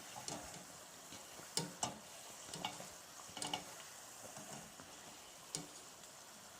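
Curry puffs frying in oil over a very low flame, giving a faint steady sizzle broken by scattered small pops and ticks, with no voices.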